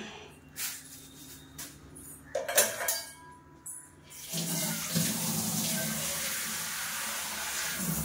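A kitchen tap is opened and water runs steadily into a container to soak a gondhoraj lemon, a close, continuous splashing hiss that follows a few brief clinks and handling noises.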